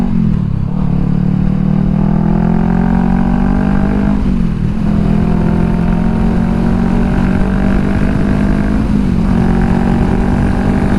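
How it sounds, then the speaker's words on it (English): A Honda CBR500R motorcycle fitted with an aftermarket exhaust pipe, riding along with a loud, steady engine drone close by, its pitch climbing gradually with brief dips around each gear shift, and no talk over it. "I love how the 500 sounds though. Still sounds excellent with this pipe."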